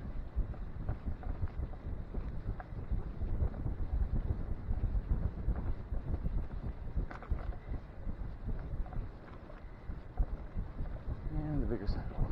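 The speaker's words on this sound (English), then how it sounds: "Yeah, the wind's coming from the south for sure." Wind roars and buffets against the microphone while riding a 2000 Silk Trail 400 bicycle on a morning commute, a steady, loud, low rumble that gusts throughout with no clear pauses.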